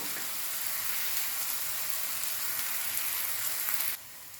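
Onions sizzling in a pan on a low flame while cooking a papaya curry: a steady, close, even hiss and crackle heard alone, stopping abruptly just before the end.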